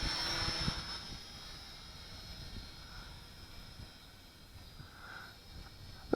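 A XinXun X-53F FPV drone flies outdoors, its thin high motor whine holding steady at a middling distance over wind noise.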